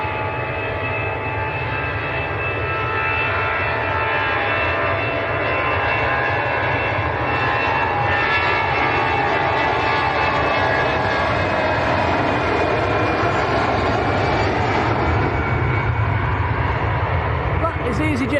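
EasyJet airliner at Manchester Airport departing for Bilbao, a loud continuous jet engine roar that holds steady throughout, with someone talking over it.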